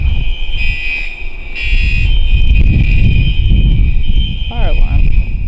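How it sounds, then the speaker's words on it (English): A building fire alarm sounds continuously as a steady high electronic tone, with loud voices and movement from people evacuating underneath throughout. "Fire alarm is going out, so we all have to evacuate."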